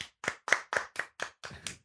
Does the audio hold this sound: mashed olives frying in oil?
no